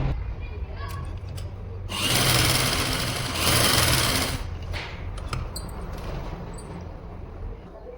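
A sewing machine stitches a blouse back neck in two steady whirring runs of a few seconds each, loud and close, with quieter handling noise before and after.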